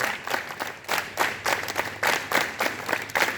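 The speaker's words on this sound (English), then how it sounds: "Now clap together. In a rhythm." A group of students at a morning school assembly claps in unison, producing a steady, regular beat of about three claps per second, moderately loud and slightly distant, without speech.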